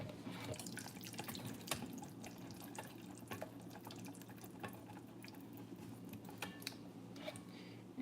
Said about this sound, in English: I'm just gonna put some water in here and scrape off all the yogurt from the bottom over here